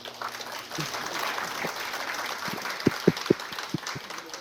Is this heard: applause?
yes